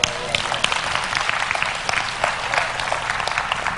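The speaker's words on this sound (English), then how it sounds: "Clap your hands." Applause from a church audience at a sermon on Kingdom culture, a dense, steady wash of many hands clapping at once, sustained and fairly loud for a few seconds with no voices standing out.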